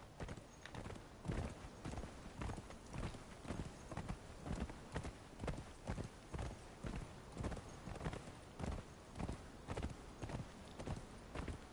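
Horse hooves clip-clop in Conan Exiles as a ridden horse moves along at a steady, even walking rhythm, quiet, with roughly two hoofbeats per second continuing throughout.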